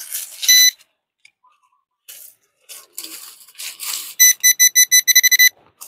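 Metal detector sweeping over the ground at a sacred graveyard in a search for gold and old relics, giving bright electronic beeps: a few scattered at first, then a run of rapid, evenly spaced pulses close by, with no talk.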